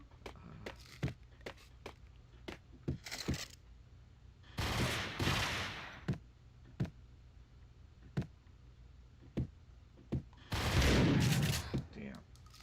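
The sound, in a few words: gunfight in Max Payne video game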